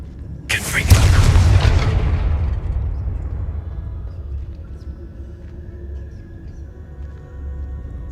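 A Confringo fire spell in Hogwarts Legacy erupts as a loud, close blast with a sharp crackling onset, then a deep rumble that fades slowly over several seconds.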